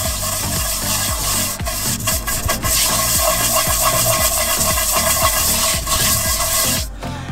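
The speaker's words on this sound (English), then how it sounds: "now we're gonna take our brush and we're just gonna start scrubbing" A stiff brush scrubbing cast iron cookware during restoration, loud close rhythmic back-and-forth rasping strokes repeated steadily with brief pauses, no talk.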